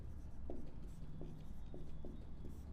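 Pen writing out a math solution for a class 10 equations lesson, a run of soft, close scratching strokes with a few sharper ticks, alone and quiet.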